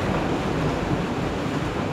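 Wind gusts and sea waves wash constantly around a sailboat passing Cape Finisterre on its way to Cascais, Portugal, a dense and steady roar that is loud and close.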